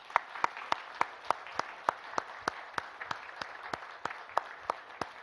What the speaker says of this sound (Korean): 우리 크게 박수 한번 치겠습니다.